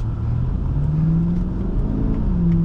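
A 2008 Infiniti M45 accelerating in manual mode, the engine note rising steadily, dipping at a shift and climbing again, heard close from inside the cabin with a constant road rumble.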